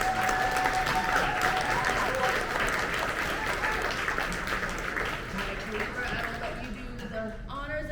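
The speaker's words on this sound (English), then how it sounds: "Let's give this group another round of applause." Luncheon audience at an awards event gives sustained applause for award finalists, dense steady clapping from a crowd that tapers near the end as a voice begins speaking.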